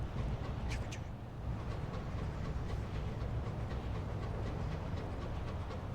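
Steady rumble of a train chugging along in the video game Sunless Skies, a continuous dense clatter with faint rhythmic clicks, loud and unbroken with no voices.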